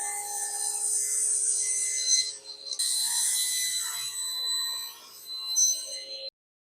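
A saw trims rough edges off a plywood base, a sustained, high-pitched rasping cut that dips briefly partway through and then stops abruptly.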